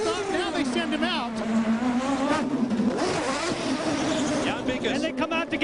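CART race cars from a 2002 race in Chicago accelerate out of the pit lane, engines revving and rising in pitch, loud and continuous, with a commentator talking over them.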